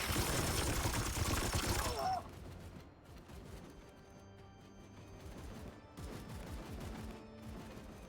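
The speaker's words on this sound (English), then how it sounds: "Opening fire!" Gunfire in the turn-based game Warhammer 40,000: Chaos Gate – Daemonhunters, a loud dense burst of rapid shots for about two seconds, followed by quieter game ambience with faint clicks and low hum.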